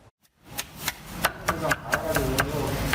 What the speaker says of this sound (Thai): อ๋อนี่คือสับไก่เสียงดั งใช่